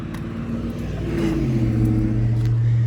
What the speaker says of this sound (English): ooh, this is a sick car, dude